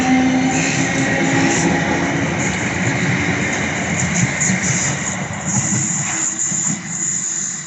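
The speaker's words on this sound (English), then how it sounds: "Railway Class 455s arriving departing Clapham Junction for Dorking from London Waterloo" British Rail Class 455 electric trains arriving and departing Clapham Junction during Friday afternoon rush hour, a steady rumbling roar of wheels and traction that stays loud and close throughout, with a slight easing toward the end.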